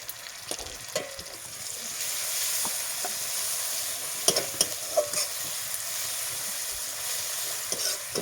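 Dried chili paste and garlic paste frying in a pan, a steady crackling sizzle broken by scraping stirs and occasional knocks of the spoon, with no talk.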